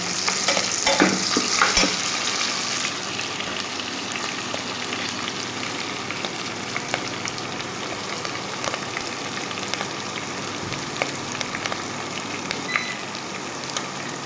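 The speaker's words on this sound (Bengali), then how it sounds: "হালকা করে ভেজে নেব" Ita fish frying lightly in a pan for a North Bengal siddol curry, a steady close sizzle and crackle with occasional stirring scrapes and clinks, continuous and fairly loud.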